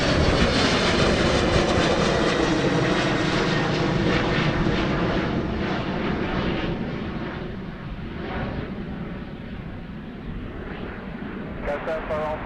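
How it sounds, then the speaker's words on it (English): A KLM Boeing 737 jet taking off at Amsterdam Schiphol gives a loud, rumbling engine roar that slowly fades as it climbs away, with voices faintly present. "Clear to take off this KLM 737 heading for Edinburgh."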